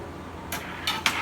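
A metal lid comes off a cooking pot of chicken gravy, followed by a spoon stirring the meat, giving three short, crisp clinks over a quiet background hum.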